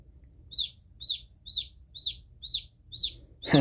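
Newly hatched chicken chick peeping in a steady series of seven bright, high chirps about half a second apart, close and clear over a faint low background hum, with a louder peep at the end.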